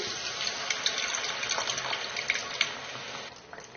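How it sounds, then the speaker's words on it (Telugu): Tamarind juice is poured into a pan of frying fish curry, making a steady splashing, gushing pour with faint sizzle, close and continuous for a few seconds. "ఇది రెండు నిమిషాలు వేయించిన తర్వాత చింతపండు పులుసు వేసేయాలి"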